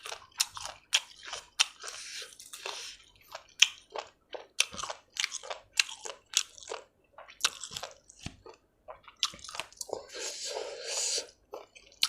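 Someone biting and chewing squid in a spicy Thai noodle salad with chili paste: close, crisp, irregular wet crunches and squishy mouth sounds repeating throughout, with soft speech-like mouth noise at times.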